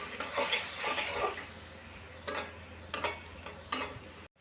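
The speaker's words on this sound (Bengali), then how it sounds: "লবণ দেব এবার মশলাটা কষাবো" Spice paste with chili powder and salt being sautéed and stirred in a pan for a fish-head and gourd-leaf dish, with soft scraping and a few sharper spoon clinks against the pan at intervals.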